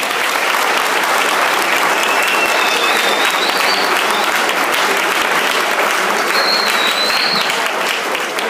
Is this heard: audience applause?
yes